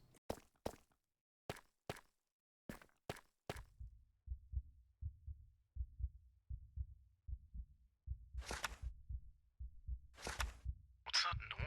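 A low, muffled heartbeat-like thumping in a video game server maze, steady double-beat pulses repeating close and deep. A few sharp clicks come first, and bursts of a voice break in over the later thumps.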